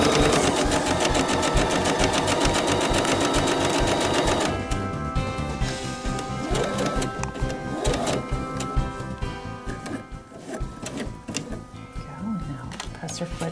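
A sewing machine stitching a tote bag, its fast rhythmic needle chatter running steadily for several seconds and then breaking into slower, uneven bursts with clicks and handling noise, while a voice talks over it.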